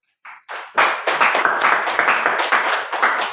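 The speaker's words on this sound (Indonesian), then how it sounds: "Oke, berikan aplaus." A small class audience claps in a short burst of applause, a few scattered claps at first, then steady, fairly close hand clapping with no talk.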